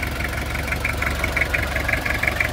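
A 1997 Toyota Kijang LSX diesel engine idling under an open hood, a steady low rumble with a rapid, even clatter, heard close and continuous.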